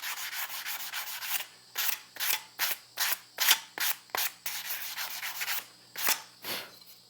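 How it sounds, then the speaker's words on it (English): Sandpaper rubbed by hand over a rusty steel axle end, a close, loud run of rasping back-and-forth strokes in a quick, regular rhythm, with a couple of longer continuous passes. "as you're going over it with your sandpaper"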